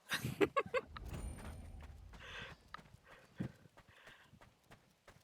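Horse hooves clattering in the medieval combat game Chivalry 2, a quick burst of loud galloping strikes up front that fades into softer, scattered hoofbeats amid battle noise.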